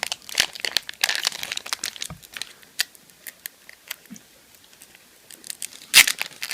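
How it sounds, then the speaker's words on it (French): Pokémon card booster pack wrappers being crinkled and torn open, a busy run of close, crisp foil rustles and snaps, with one louder crackle near the end. "on va essayer de ne pas déchirer les boosters"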